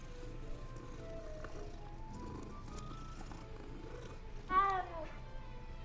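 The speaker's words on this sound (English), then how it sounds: "we'll pet the cat" A cat being petted in Hogwarts Legacy gives a short, rising meow-like cry near the end, rising briefly over quiet game ambience and faint talk.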